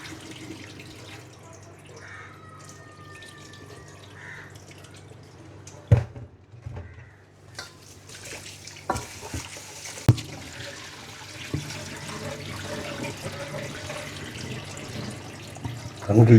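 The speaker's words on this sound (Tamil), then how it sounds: "அரிசி கழுவு பண்ணுறோம்." Rice being washed by hand under a running kitchen tap, with a steady stream of water and intermittent splashes and clinks of the vessel, close and moderately loud.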